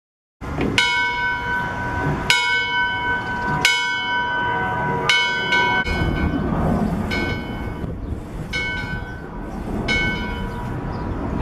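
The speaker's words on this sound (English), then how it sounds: "even ring the locomotive's bell" A locomotive bell at a railroad museum in Bensenville, Illinois clangs repeatedly in steady, loud strokes with ringing overtones, each strike decaying into the next over a low rumble.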